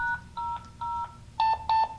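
Keypad tones from a Viking Electronics K-1900-5 being programmed to dial an extension: five short, evenly spaced DTMF beeps, the last two stronger and steadier, close and clean with a faint low hum beneath.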